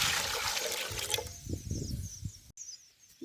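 Water pours into a bowl of rice flour with a steady splashing rush, then breaks into a few shorter trickles and drips near the close.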